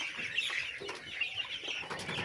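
Broiler chickens in a meat-bird farm shed, close to market weight, cluck and chatter in a dense, continuous flock murmur with no pauses.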